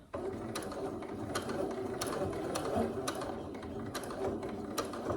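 A sewing machine back stitches along a bodice seam, a steady mechanical whir punctuated by sharp ticking clicks at irregular intervals, close and continuous with no talking.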